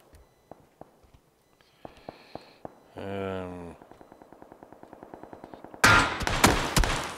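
PUBG: Battlegrounds gameplay: scattered sharp cracks, then a short tonal burst and a run of quick regular pops, ending in loud, dense bursts of gunfire up close.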